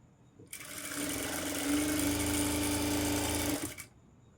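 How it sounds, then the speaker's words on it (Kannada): Sewing machine stitching a golden saree fall, one steady run of rapid mechanical whirring lasting about three seconds, close and moderately loud, starting and stopping cleanly with no talking. "ಈ ರೀತಿ ಒಂದು ಫೋಲ್ಡ್ ಮಾಡಿ ಸ್ಟಿಚ್ ಹಾಕೋಬೇಕು"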